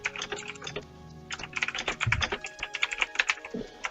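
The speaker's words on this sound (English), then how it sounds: "Now I can hear typing." Rapid, irregular tapping of keys on a computer keyboard, close and clear, with no voices.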